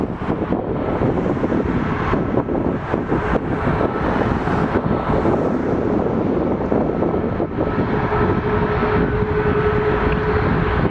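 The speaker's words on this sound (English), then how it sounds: "that's the plane." Jet airplane taking off from a runway at Toronto Pearson airport, a loud continuous roar heard from a distance, steady throughout with wind buffeting the microphone.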